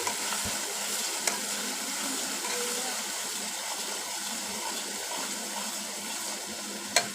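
Fish masala spice paste sizzles in hot oil while being stirred, a dense continuous frying hiss with soft scraping and occasional faint knocks of the spoon, close and steady.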